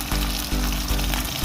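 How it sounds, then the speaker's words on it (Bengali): Hilsa fish pieces fry lightly in hot mustard oil with black cumin seeds, a dense, loud, continuous sizzle heard close up with faint rhythmic pulses. "মাছগুলো খুব হালকা করে ভাজা করতে হবে।"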